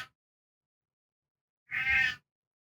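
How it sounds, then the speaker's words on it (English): A house cat lets out a single loud, close meow of about half a second, with silence before and after. "The cat's meowing again a lot this episode."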